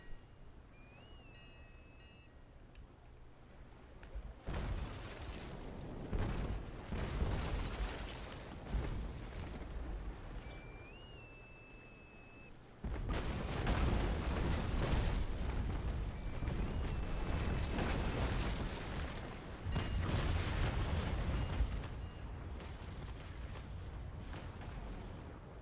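Heavy naval cannon fire from the Naval Action game during a Belle Poule versus Belle Poule battle: two deep, booming broadside volleys, each rolling into a long rumble, with quieter ambient stretches between.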